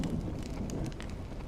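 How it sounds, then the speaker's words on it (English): Steady rain falls in a desolate place in the game Honkai: Star Rail, a dense, even hiss with scattered drop patter, close and continuous, no voices. "You're lucky to have found shelter from the rain."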